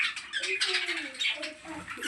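Budgerigars in a bird farm aviary chirping and squawking in quick, overlapping bursts, a busy chattering flock heard briefly at moderate volume.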